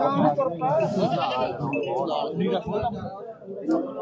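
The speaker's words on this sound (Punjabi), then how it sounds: "ਆਜੋ ਬੱਕਰੀਆਂ ਵੀ ਦਿਖਾਉਣੇ ਆਪਾਂ" Goats bleat among a crowd of overlapping voices at a busy outdoor goat market in Punjab, with clinks and bustle throughout.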